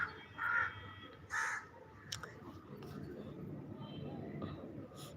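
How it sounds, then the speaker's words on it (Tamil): Crows caw loudly and close by, two harsh bursts in quick succession near the start, followed by a low, steady outdoor murmur with faint scattered sounds. "காக்காஸ் கத்திங்"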